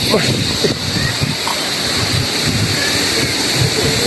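Rough sea waves break and wash along the shore at a Batangas resort, a loud, steady surging roar with gusty wind buffeting close to the microphone.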